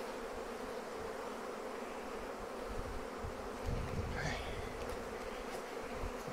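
Honey bees, pollination colonies back from California almond orchards, buzz thickly around an opened hive box, a dense continuous drone that fills the scene, close and steady, with faint handling sounds.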